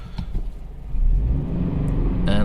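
Toyota GT-86 rear-wheel-drive sports car engine while driving, a steady close rumble that swells and accelerates, alone without talk.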